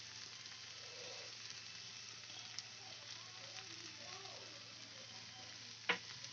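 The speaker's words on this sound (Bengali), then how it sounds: "এবার আমি চাট মশলা দিয়ে ভালো করে মিশিয়ে নেব।" Chaat masala stirred into a black chickpea and potato curry in a pan, a soft steady sizzle and faint scraping running throughout, with one brief sharp tap near the end.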